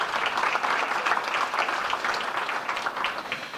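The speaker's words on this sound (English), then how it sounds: "You can give him another round of applause." An audience at the Caribbean Week New York 2025 opening ceremony gives a tennis player a round of applause: dense, steady clapping from many hands, loud and continuous for several seconds with no talk over it.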